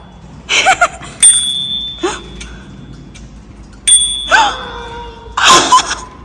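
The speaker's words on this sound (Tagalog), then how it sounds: "Use your bell." Bicycle bell dinging in a few separate bursts of two or three rings each, loud and close, with a faint voice in between.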